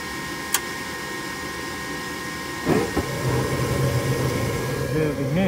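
An old Rheem gas furnace runs with a steady whooshing hiss and a low hum, and a short clunk comes partway through. Someone speaks briefly over the sound.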